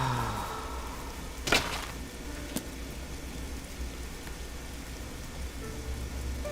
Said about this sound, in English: Just standing here out of the rain.